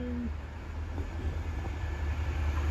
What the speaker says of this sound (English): is a class 195 going to Manchester Airport.